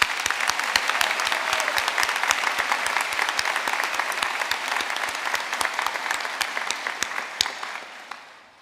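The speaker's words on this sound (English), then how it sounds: "give a round of applause to Daria de Brass, who have played us in and will play us out" An audience at a university graduation ceremony applauds for several seconds, with many distinct claps in a thick, even patter that gradually thins and fades at the end.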